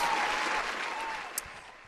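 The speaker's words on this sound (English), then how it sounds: "This man deserves a round of freaking applause." Steady applause from a small group on a live stream, a dense hiss of clapping that slowly fades over two seconds, with a faint voice underneath.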